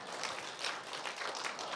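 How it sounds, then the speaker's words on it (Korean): A church congregation applauds during a morning sermon, a dense wash of many hands clapping together, moderately distant and steady throughout the short burst. "박수 좀 해줘봐 정말"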